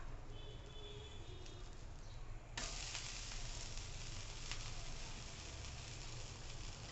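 A ragi flour ghavan crepe sizzles steadily on a hot pan, a quiet continuous frying hiss that jumps louder partway through when the crepe is flipped.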